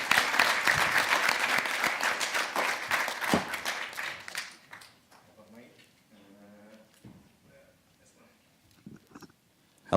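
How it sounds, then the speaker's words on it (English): Conference audience applause at a Glasgow tech festival for a closing keynote speaker, full clapping for about four seconds that fades out, then a quiet room with faint voices. "So your applause, please, for our GTF1 closing keynote, CEO of Made Brave, Andrew Dobbie."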